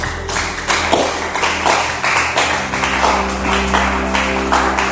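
Church congregation clapping and cheering for Jesus, rhythmic rounds of claps in steady bursts over a droning musical backing, fairly loud and close.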